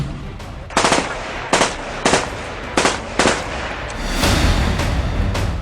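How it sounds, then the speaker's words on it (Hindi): Rapid bursts of automatic gunfire during a security forces' encounter with militants in Kashmir, six sharp volleys spaced about a second apart, followed by a sustained loud rumble, with no voices. "जहां से अब से कुछ देर पहले गोलियां चलने की आवाज सुनी गई है।"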